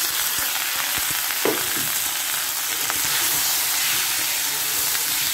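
Malabar spinach, potato, papaya, okra, long beans, green chillies and ginger fry in a pan with a loud, continuous hiss and sizzle, joined by a few faint utensil clinks.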